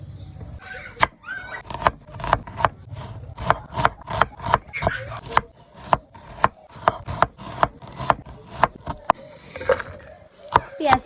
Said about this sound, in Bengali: প্রথমে পেঁয়াজ কাঁচা লঙ্কা ধনে পাতা সবকিছু কেটে নিচ্ছি